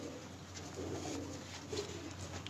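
A pigeon coos softly nearby, a few low, throaty rolling calls over a faint steady hum, on a rooftop pigeon loft in Islamabad.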